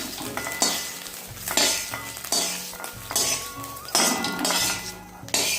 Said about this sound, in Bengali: ডিম ভুজিয়া আমার হয়ে গেছে, আমি এখন নামিয়ে নিচ্ছি এটা